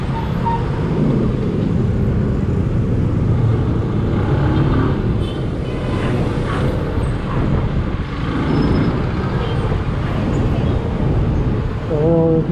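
Dense road traffic in Caloocan, a steady close wash of car, bus and truck engines with an air-brake hiss and a brief squeal near the end, continuous and fairly loud throughout.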